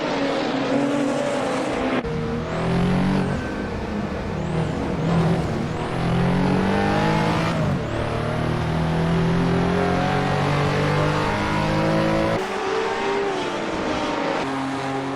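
Race cars lap the Imola circuit in the Assetto Corsa racing game, with engines screaming up through gears, sharp downshifts and repeated revving as several cars run close together, loud and continuous.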